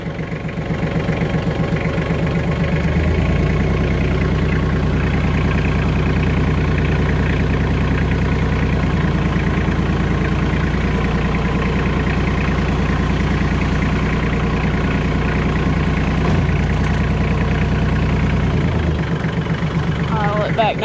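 A Kubota tractor engine idles in the cold, its steady low diesel rumble running loud and continuous for nearly the whole stretch before easing off near the end.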